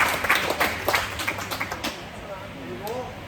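A crowd at a crime forum in Cairns claps for Pauline in a burst of close, sharp applause that thins out within a couple of seconds, with voices talking over and after it.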